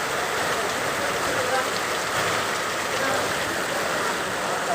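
Heavy rain pours down steadily in a dense, constant broadband hiss, close and loud throughout, with faint voices now and then beneath the downpour.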